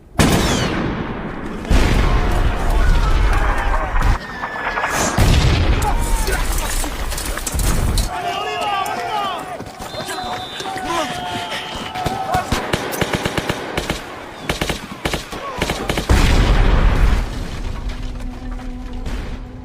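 Artillery fire and explosions from the war film Days of Glory, with heavy booms, rattling gunfire bursts and debris crashes following one another loudly and densely throughout.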